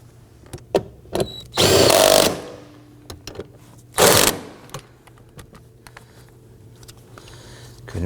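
Power tool tightening bolts on a Nissan Murano fuel pump module, two short loud whirring bursts separated by a pause, with light clinks and handling noises around them.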